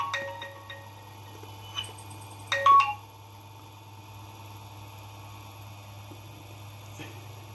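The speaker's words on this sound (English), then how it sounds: "Call alert" A GSM module in an Arduino gas leakage detector places an alert call, giving a short burst of dialing and ringing tones over a steady electronic hum, with a brief louder tone near the middle.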